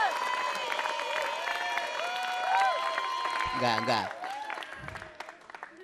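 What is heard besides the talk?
audience applause at a seminar performance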